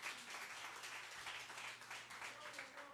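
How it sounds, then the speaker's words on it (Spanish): A church congregation applauds together, a steady, even wash of many hands clapping that stays faint and somewhat distant for the whole stretch. "Dale ese fuerte aplauso a Rey de Reyes."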